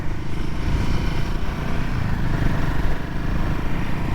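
A Royal Enfield Himalayan 450 rides a rainy monsoon ghat road toward Ooty, its engine a continuous low rumble mixed with wind and road roar, loud and steady throughout with no speech.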